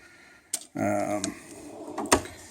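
A Snap-on toolbox drawer slides open with a short rolling rumble between brief clicks and clunks of the metal drawer, close up and fairly loud, with a voice speaking nearby.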